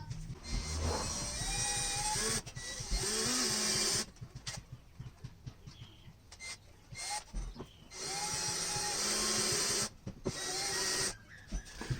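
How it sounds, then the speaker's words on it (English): A power drill with a 9/64 or 5/32 bit drills out the rivets holding a speaker in a 2009-2010 Hyundai Sonata door, whining in three loud close bursts separated by short quieter pauses. "we're going to drill out the rivets that are holding the speaker into place"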